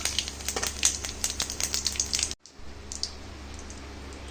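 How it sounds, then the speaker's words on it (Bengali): Crackling, popping sizzle of cinnamon and cumin frying in hot oil, close and busy, with a brief drop to quieter sizzling partway through. "মশলাটা একটু ভাজা হোক"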